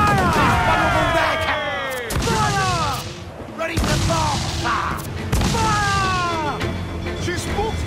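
Ship cannons firing in Assassin's Creed 4 Black Flag: loud booming volleys of naval gunfire with crashing impacts, several heavy bursts in quick succession, with shouted voices and game sounds mixed around them.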